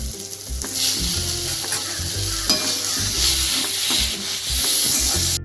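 Okra, onion and tomato sauté in a home kitchen pan, giving a steady close sizzle with repeated scraping and stirring strokes throughout.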